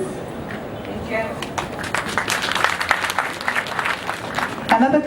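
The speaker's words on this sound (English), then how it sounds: "Another clap for the young ladies" An audience claps at a university graduation ceremony, a crowd's applause swelling to a dense, scattered patter, with a voice speaking over it.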